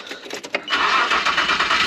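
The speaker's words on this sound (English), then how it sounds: "Let me crank the car." Polaris General 1000 engine cranking, a brief whirring crank after a few clicks and knocks, then a loud, steady mechanical churn close to the microphone.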